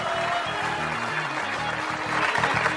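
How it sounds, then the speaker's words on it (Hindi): Faint clapping from the audience at a Zakir Khan stand-up comedy show, a soft scattered patter running under a pulsing music beat. "देख रहे हो, सिर्फ गरीब लोग ताली बजा रहे हैं,"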